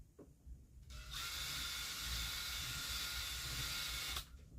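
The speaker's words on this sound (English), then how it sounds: "use what's called a countersinking bit, this bit here. So what it does when you drill down" A power drill with a countersinking bit whirs loudly into wood for about three seconds with a steady high-pitched grinding whine, starting and stopping abruptly amid quiet surroundings.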